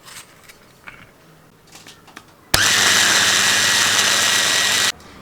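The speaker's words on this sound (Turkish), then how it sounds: "Domateslerimizi mikserden çektik." Kitchen blender pureeing two peeled tomatoes for a sauce: a loud, steady motor whir starts abruptly partway through, runs for a couple of seconds and cuts off cleanly, after quieter handling noises.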